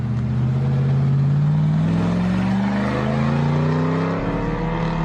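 A forest ranger's vehicle drives steadily, its engine note climbing gradually as it accelerates, loud and close with a constant hum throughout and a slight shift near the end.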